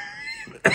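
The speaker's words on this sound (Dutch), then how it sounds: "Even hoesten." A single short cough bursts out close and fairly loud near the end, after a stretch of quiet room tone.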